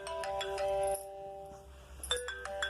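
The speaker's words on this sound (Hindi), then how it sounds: "मम्मी के फोन पे कॉल आ रहा है" A mobile phone rings with an incoming call, playing a melodic ringtone of bright, repeated electronic notes. It pauses briefly, then starts again, clear and close, with no speech over it.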